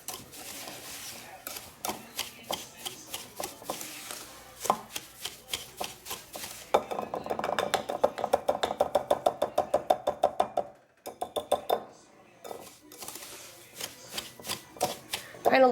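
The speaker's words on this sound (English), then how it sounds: "I have found from years of making this to just use a whisk to combine it" Rapid metal whisk strokes beat sugar into oil in a bowl for banana bread, a steady clicking rhythm of scrapes and taps close up, with a denser, faster burst midway and no talking.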